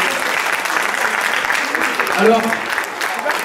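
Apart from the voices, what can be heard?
audience applauding at a magic show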